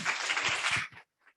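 Audience applause at a charity giving event, a short burst of clapping from a room of people that fades out quickly to silence.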